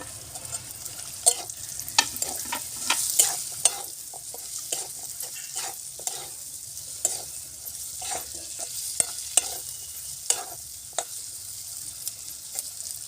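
Dried bombil fish pieces fry in roasted masala in a pan, a low sizzle under frequent sharp clicks and scrapes of a spoon stirring at an uneven pace throughout.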